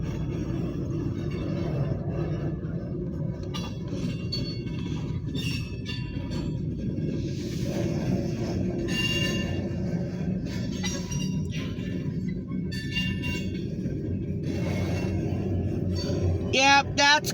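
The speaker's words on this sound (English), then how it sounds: "We got a very short grain hopper train." A short freight train of grain hopper cars rolls past at the Rynd Farm station, a steady low rumble with clanking and metallic squeals from the wheels, while someone talks over it now and then.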